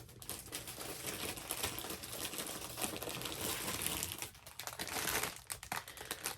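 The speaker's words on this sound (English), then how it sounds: "So sorry for the crinkling." Plastic packaging crinkles as it is opened up close: dense, irregular crackling and rustling bursts that keep going, ease off briefly and then start again, with no speech.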